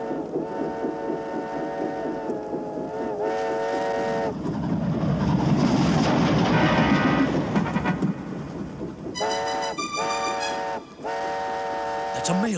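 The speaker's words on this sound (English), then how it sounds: "That's a mail train, isn't it?" A mail train rolls past in an animated tugboat series, sounding repeated tonal whistle blasts at the start and again near the end around a rushing, rumbling passage in the middle.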